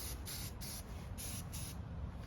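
A spray can lays primer onto a Harley-Davidson fuel tank in several short hissing bursts separated by brief gaps, soft and close, over a faint background rumble.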